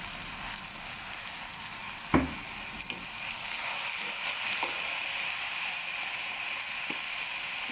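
Pork and wide rice noodles for pad see ew sizzle steadily in a hot pan, a continuous frying hiss broken by a few sharp scrapes and clinks of stirring.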